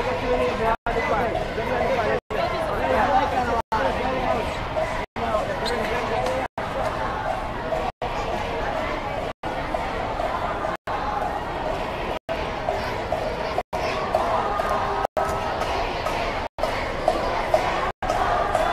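A dense crowd of supporters outside Trump Tower makes continuous loud chatter and hubbub with footsteps and movement, heard from within the throng, punctuated by regular brief dropouts.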